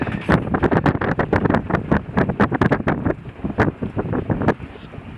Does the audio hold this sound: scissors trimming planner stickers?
no